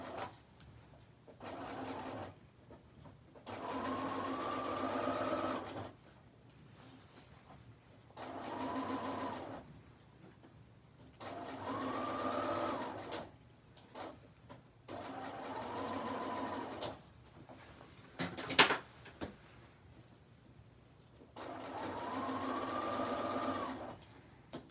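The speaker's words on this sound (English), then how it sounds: "I'm stitching very carefully to make sure my seam allowances stay where they are." A sewing machine stitches a Y seam in five separate bursts of steady, even mechanical whirring, each several seconds long, broken by quiet pauses with a few handling clicks and one sharp rattle between runs.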